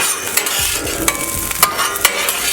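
Garlic sauce hits a hot Blackstone griddle for spicy beef teriyaki and sizzles loudly and up close, with a few sharp scraping stirs cutting through the constant hiss and no one talking.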